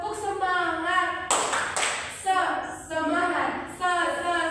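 A class group performs a rhythmic spirit clap, with several sharp, loud clap bursts spaced through the stretch and group voices chanting in between.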